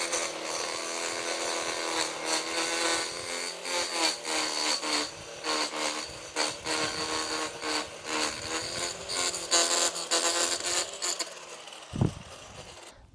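A Ryobi 18V ONE+ HP brushless 204mm edger cuts through thick lawn thatch in rough, rasping bursts over a constant motor whine, then stops with a brief knock near the end.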